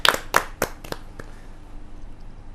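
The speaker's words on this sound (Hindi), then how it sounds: "जोरदार तालियों से स्वागत कीजिए प्रशांत अवस्थी जी" At a Hindi kavi sammelan, an audience claps to welcome a poet: a few sharp, close claps in quick succession, then the sound thins out into faint scattered noise.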